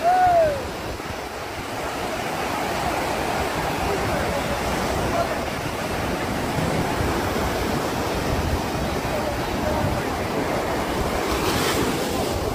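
Ocean waves break and surge steadily onto the beach at Eforie, with strong currents pulling at the water; the broad roaring wash runs loud and continuous, with wind buffeting the microphone.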